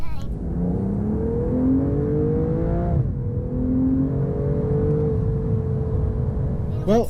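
A 2023 BMW M240i accelerating hard through a 30 to 70 mph sprint, its engine note climbing steadily with a brief dip at a gear change, loud and close from inside the cabin.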